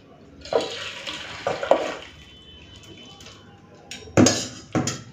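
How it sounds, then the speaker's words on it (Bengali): Cooked rui fish sour curry poured from a pot into a serving dish: a few soft liquid splashes and clinks of metal on a dish, close by, with a brief louder clatter near the end and no talk. "এই যে রুই মাছের টক হয়ে গেছে, ঢেলে নিই।"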